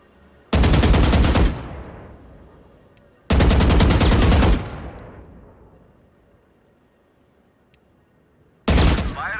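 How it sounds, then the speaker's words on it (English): Gunfire at training bots in the Valorant video game: three loud, sustained bursts of shots, each about a second long with a ringing tail, separated by short quiet gaps. "move to face each bot, then stop and shoot while standing still."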